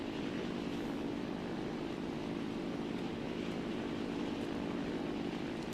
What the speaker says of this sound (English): at this point I can hear an engine coming up behind me